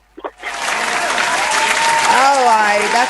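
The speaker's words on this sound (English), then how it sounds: "that round of applause is for you" An audience breaks into loud, sustained applause after a brief pause, the clapping building quickly and holding steady while a voice speaks over it near the end.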